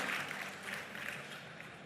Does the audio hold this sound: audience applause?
yes